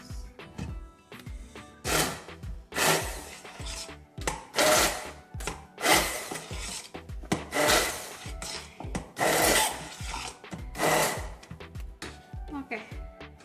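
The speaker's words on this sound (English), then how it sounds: "So I'm going to grind this with my hand blender." A hand blender grinds roselle (gongura) leaves in repeated loud, gritty bursts with short pauses between them, a steady start-stop rhythm heard up close.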